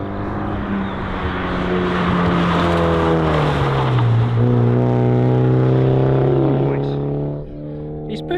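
A Nurburgring race car screams past on a runway test track, its engine note rising loud and near, then dropping in pitch as it passes, with tire noise and a voice briefly underneath.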